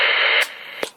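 A stock Superstar CB radio transmits a burst of loud hissing static that cuts off abruptly, followed by quieter noise and a brief click or squelch tail.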